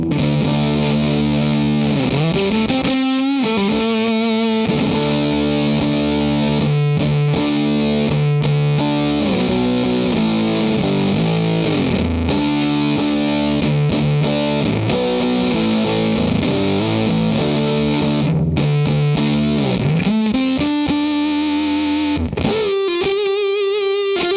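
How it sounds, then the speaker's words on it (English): An electric guitar with humbucker pickups plays through a Big Muff fuzz distortion pedal, thick sustained chords and riffs with a few brief pauses, loud and up front throughout. "I use it for the big, fat, thick distortion sounds."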